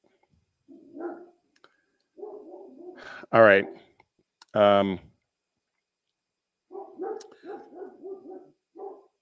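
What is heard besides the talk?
dogs barking at a delivery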